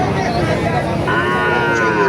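At a cattle market, a cow or bull moos loud and near in a long, sustained call amid background voices and crowd noise.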